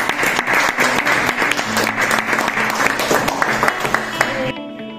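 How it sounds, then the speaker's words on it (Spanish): Loud, dense applause rings out from the attendees at the closing ceremony of a municipal employment workshop in Villarino, continuous clapping that tapers off abruptly near the end. "Un aplauso para sí."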